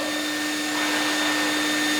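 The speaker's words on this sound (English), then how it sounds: "we're going to air dry it with warm air from the vacuum" A floor-cleaning vacuum blows warm air to dry a bathroom floor, a loud, constant whooshing roar with a steady motor whine and no voices.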